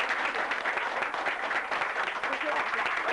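An audience claps during a chi kung demonstration with a tooth extraction. The applause is dense and continuous, filling the room at an even level from start to finish.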